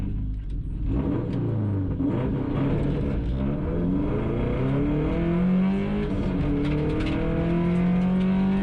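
A stage rally car pulls up to the start line and launches, its engine loud and close, revving hard with rising and falling pitch sweeps through the gears and no talking over it.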